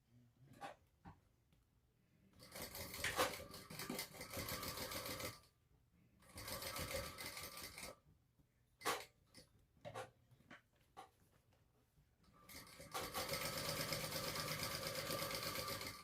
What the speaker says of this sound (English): we're just going to top stitch across this top